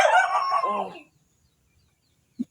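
A single rooster crow rings out loud and close beside a river, lasting about a second, then near silence broken by one short low cluck.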